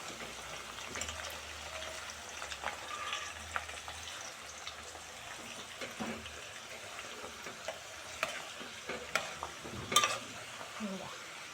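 Flowers frying in hot oil for homemade ayurvedic hair oil, a faint, steady sizzle with scattered crackles and stirring clatter, heard from close by at low volume.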